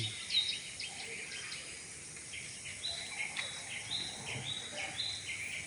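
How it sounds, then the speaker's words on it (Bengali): Faint, high chirps repeat in short bursts over a soft, steady outdoor hiss, like small birds calling at a distance. "পাখির কলতান দেখুন পাখি কি সুন্দর আওয়াজ করছে"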